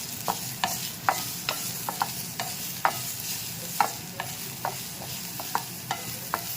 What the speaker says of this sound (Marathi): त्यांना जाडं मोठे टाकून घ्यायचे. थोडंसं भाजायचं 2 ते 3 मिनटं फक्त.